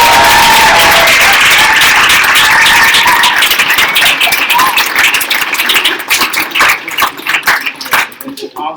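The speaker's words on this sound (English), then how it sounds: "And we have another round of applause for the panel." Loud, dense audience applause for a panel at a Black Lives Matter event, a continuous roar of many hands that thins and tapers toward the end.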